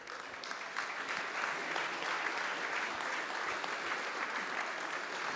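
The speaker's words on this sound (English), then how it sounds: "Let's give Nathan a big round of applause" An audience applauds keynote speaker Nathan at the EVOLVE event, with dense, steady clapping that fills the room for the whole stretch at an even level.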